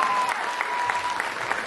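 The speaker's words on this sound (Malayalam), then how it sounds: "ഒരു ഹ്യൂജ് കൈയടി തന്നെ കൊടുക്കും" Audience applause at an Onam celebration mother-and-child ramp walk show, a brief, steady burst of many hands clapping at close range, dense and even without pause.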